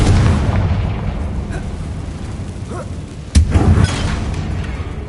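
Bombarda and Confringo spells in a Hogwarts video game explode with a low rumbling background, then one sharp, sudden blast with a brief rumble after it, fairly loud, no voices over it.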